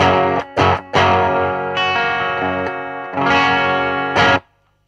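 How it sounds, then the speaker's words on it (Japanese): Clean electric guitar chords and single notes from a Stratocaster through a Marshall-style overdrive pedal with guitar volume turned well down, played in short strummed bursts with brief gaps, ringing with a shimmering chorus-like effect and no voices. "ボリュームをかなり絞ってクリーンにした感じで弾く音もめちゃくちゃ最高なんですよね。"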